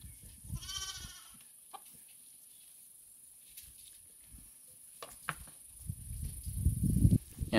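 Sheep on a farm bleat: one clear wavering bleat near the start, scattered rustling and small sounds in a quiet middle stretch, then louder shuffling and animal noise building toward the end.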